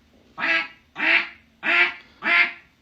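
A voice mimics a duck, giving four evenly spaced nasal quacks, each about half a second long, loud and close with short pauses between them.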